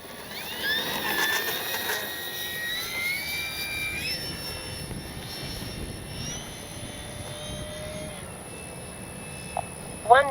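An FMS P-51 Miss America RC warbird flying in to land in a gusty crosswind, its motor giving a steady whine at moderate distance with no flaps deployed, continuous and fairly even over an outdoor background.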